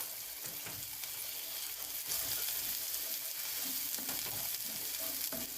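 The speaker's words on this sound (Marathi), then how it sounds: "यामध्येच मी अद्रक लसूण आणि खोबरं घातलेली पेस्ट टाकत आहे. याला पण थोडंसं परतून घेऊया." Ginger, garlic and coconut paste frying with kaleji in a pan, a steady close sizzle with repeated stirring scrapes that grow a little louder partway through, no voices.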